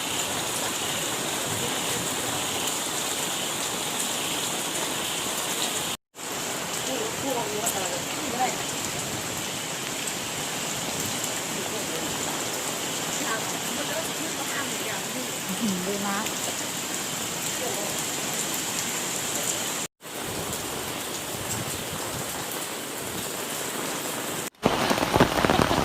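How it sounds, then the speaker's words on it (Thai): Heavy rain pours steadily, a dense hiss of drops on surfaces throughout, with a voice speaking briefly and faint background voices. "บรรยากาศก็ฝนตกหนักมากเลยค่ะ"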